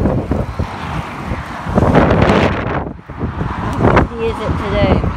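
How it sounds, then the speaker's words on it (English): Strong wind buffets the microphone at a level crossing, a loud continuous roar rising and dipping in gusts, with people talking over it. "It's literally so windy."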